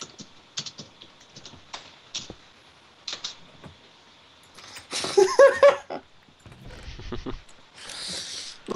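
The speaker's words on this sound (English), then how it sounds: "I can hear him typing." Clicks of someone typing on a computer keyboard come in short irregular bursts at moderate distance, separated by brief pauses, with a couple of louder noisy bursts partway through.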